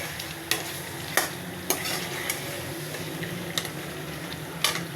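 Chicken masala with salt sizzles steadily in a pan while a spatula scrapes and clicks against the metal in about seven sharp, irregular strokes; no voices.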